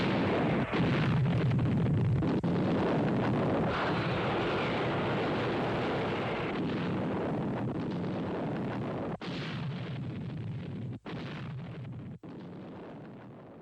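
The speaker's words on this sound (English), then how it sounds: "We open with some model work and explosions with planets and a meteor flying by." Loud, dense rumbling explosions fill a science-fiction TV show's opening model sequence with planets and a passing meteor, a continuous roaring blast-and-whoosh texture broken by a few brief cuts near the end.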